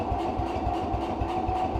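A snowblower engine, an SS12 model, idles steadily after a fuel problem in its carburetor, with a low, even, pulsing chug close by and no talk over it.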